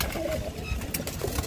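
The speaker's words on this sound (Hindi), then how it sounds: "कबूतर का जोड़ा अभी नया है" Pigeons coo softly near a newly paired couple kept shut in a loft, low rolling calls repeating under a steady background hum.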